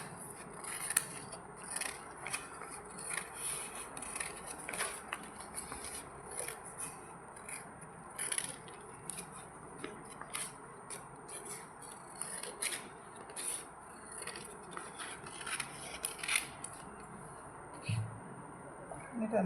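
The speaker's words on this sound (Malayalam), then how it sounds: "ഇത് നടുവേ മുറിക്കേണ്ട, ഇത് വീണ്ടും മുറിക്കുക" Scissors snip and rub through thick paper strips while making a paper flower vase craft, a steady run of small cuts and scrapes close by, with quiet talk faintly underneath.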